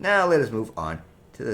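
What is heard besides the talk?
No distinct noise like a dog, phone or traffic.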